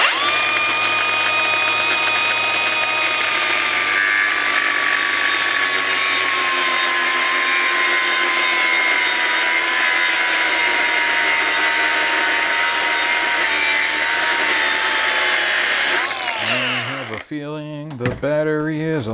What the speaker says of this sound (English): So I'm gonna make that same cut here. Hopefully the grinder will last long enough.